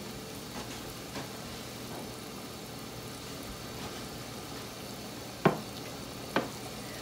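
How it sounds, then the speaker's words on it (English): Water bubbles and hisses steadily in a lidded pot on the stove, a faint continuous simmer broken by two sharp clinks late on. "so we've got that boiling"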